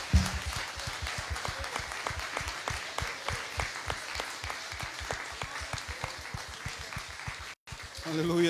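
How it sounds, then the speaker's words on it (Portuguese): A church congregation applauds steadily during a morning worship service, rhythmic clapping continuing throughout with a brief drop near the end, while a voice speaks over it. "Aplauda o nome do Senhor"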